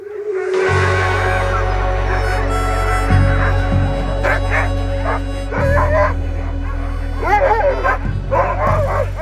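A crowd of huskies on a husky farm barks, yips and howls together in a loud, continuous chorus, close and overlapping, with whining voices rising above a steady hum.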